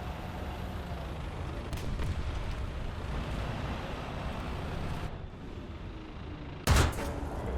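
Tank cannon fire in War Thunder, a steady roar of engine and battle noise with one sharp, loud shot near the end.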